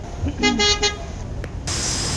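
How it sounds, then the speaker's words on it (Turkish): A car passes through an industrial area, with a short honking toot followed by the steady, rising hiss of the vehicle going by at close range. "Normalde çok sık araba geçmiyor biliyor musun? Bugün geçiyor."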